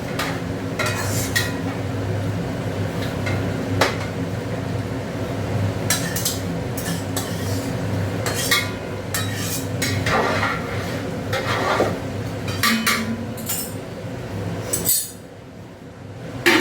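Dal is stir-fried in a pan with a metal spoon. Repeated clinks and scrapes of utensil on pan ride over a steady sizzle, and the sound drops away near the end.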